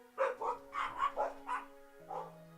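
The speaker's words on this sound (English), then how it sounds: "Oh my god, they're just barking at everything, I swear." Dogs in a video game give a run of about six short barks in quick succession, moderately loud over a steady hum of background tones, followed by one more bark after a brief pause.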